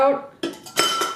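A blade lifted out of the bowl of an Oster Versa blender's food processor attachment, giving quick hard clinks and knocks of metal and plastic, close and clear, with a ringing tone at the start.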